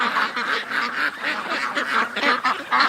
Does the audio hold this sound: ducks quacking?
yes